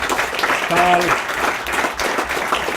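An audience at a Jerusalem international law research forum breaks into sustained applause, dense clapping filling the room while a speaker's voice briefly cuts through.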